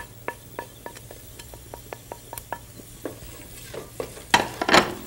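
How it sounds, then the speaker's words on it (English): Turmeric frying in oil in a pan during Indian-style rice cooking, giving a steady sizzle broken by regular scraping stir strokes, louder clatter toward the end. "Fry that around for a second or two."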